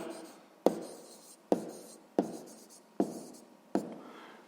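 A pen writes an answer by hand on paper in five distinct strokes or bursts of scratching, each starting with a sharp tap and fading, close and clear with quiet pauses between.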